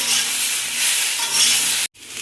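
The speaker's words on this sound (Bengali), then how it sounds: "সবজিটা ভাজা হয়ে গেছে" Vegetables fry and are stirred in a pan while cooking a lemon fish curry: a loud, close, continuous sizzle that cuts out briefly near the end before resuming, with no talking.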